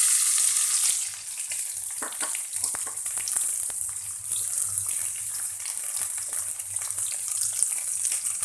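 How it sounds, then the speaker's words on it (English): Mustard seeds crackle and pop in hot oil for an Indian tadka for a Maharashtrian horse gram sprouts curry, a steady close sizzle dotted with sharp little snaps throughout. "Once this the mustard seeds start popping, we'll add the onion."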